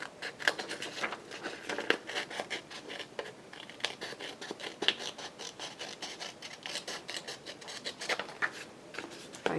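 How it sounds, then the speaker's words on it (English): Small scissors snip through paper while assembling an altered craft book, a quiet, steady run of close, crisp cuts and rustles with no talking. "If I use bigger scissors, it'd probably go a lot faster, huh?"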